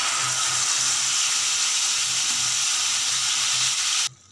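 Sautéed paste sizzles loudly in a hot pan of veg Kolhapuri curry, a dense continuous hiss close up that cuts off abruptly at the end.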